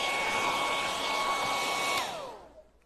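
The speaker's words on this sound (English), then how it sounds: "And I'm drying it with my hot dryer." A hot-air craft dryer blows steadily to dry paint on a metal silver charger, a loud constant whooshing drone with a faint whine that cuts off and spins down near the end.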